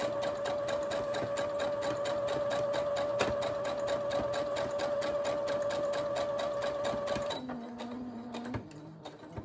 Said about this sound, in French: Je plante, je tourne et je continue ma couture.